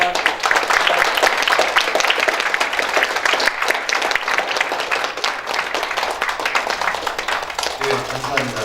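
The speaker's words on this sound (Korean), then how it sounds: "우리 모두에 대한 감사와 격려의 마음을 담은 큰 박수로 제2회 한일의회 미래대화를 마치도록 하겠습니다" A conference audience gives sustained, dense applause to close the second Korea-Japan parliamentary future dialogue, many hands clapping continuously and fairly close, with talk over the clapping.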